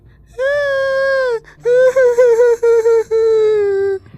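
A cartoon character cries for help from inside a well: a loud, high, wailing voice in a long sustained wail, then a choppy run of sobbing bursts and a final drawn-out cry.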